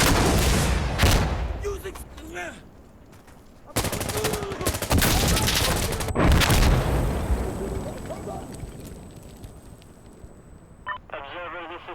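Rapid rifle fire and heavy blasts ring out in a busy Insurgency Sandstorm firefight, loud and continuous with dense bursts, while several voices shout over the combat.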